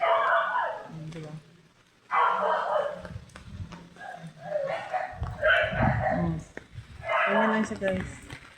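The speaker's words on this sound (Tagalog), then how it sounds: "Nakaingay ng aso." A dog barks repeatedly in short bursts during a rainy spell in Quezon City, heard under and between a person's talking.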